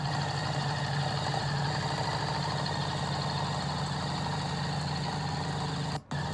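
A Harley-Davidson motorcycle engine runs steadily and close by, a continuous low rumble that holds through the whole stretch, with only a brief dip near the end and no talk over it.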